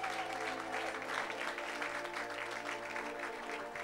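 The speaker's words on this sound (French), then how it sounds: "Clap your hand for the Lord." Worshippers in a church service clap their hands for the Lord, a steady wash of crowd applause that stays fairly faint and continuous from start to finish.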